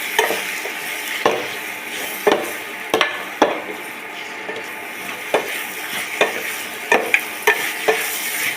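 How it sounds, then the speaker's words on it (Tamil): Chicken frying with onions for a salted chicken curry, stirred repeatedly in a pan: a steady close sizzle broken by sharp scraping strokes of the spoon about once a second, with no talking. "இப்போ நம்ம சிக்கன் போட போகிறோம் வெங்காயத்தெல்லாம் போட்டு"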